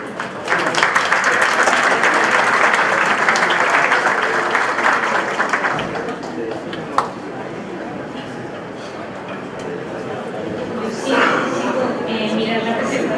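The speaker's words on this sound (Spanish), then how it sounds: "Recibimos con fuertes aplausos a Elisa Centeno Villa." Strong audience applause in a conference hall welcoming a speaker at a national accreditation congress, a dense steady clapping wash for about six seconds that then eases into quieter room noise with a few scattered claps and brief talk.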